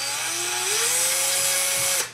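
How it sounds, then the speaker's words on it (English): A power drill bores into a tin, its motor whining steadily with a rising pitch as the bit builds up speed, loud and close, then cutting off abruptly at the end. "when you drill in a tin, the bit can slip all over the place"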